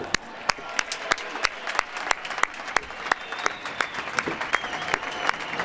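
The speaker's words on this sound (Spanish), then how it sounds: "Recibámosla con un fuerte aplauso." A crowd at a town festival opening speech in Leganés applauds, with loud sustained clapping and distinct sharp claps standing out in a steady rhythm throughout.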